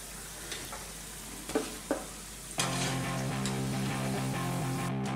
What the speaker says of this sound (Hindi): हमारे सभी पकोड़े फ्राई होके बन चुके हैं